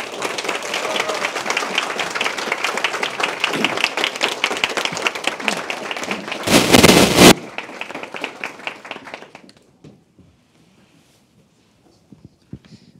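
A forum audience at a public-education lecture claps warmly and steadily for several seconds, with a brief loud burst in the middle, then the applause thins out and stops into near silence.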